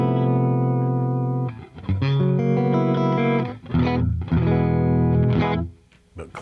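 An electric guitar plays sustained chords and single notes through a Fender '65 Deluxe Reverb Reissue tube amp on its clean non-vibrato channel, dry and without reverb, ringing out and then fading near the end.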